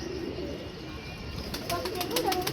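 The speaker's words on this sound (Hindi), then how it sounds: "ये बाबा लियाको वाला जो सा कबूतर बैठ रहा है" A pigeon settles on a perch in strong wind, giving soft cooing and brief wing sounds over steady wind noise, with someone talking nearby.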